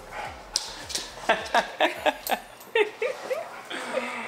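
Excited pet dog greeting its owner on arriving home inside a camper van, a rapid run of short whimpers, yips and soft barks mixed with chuckling and talk.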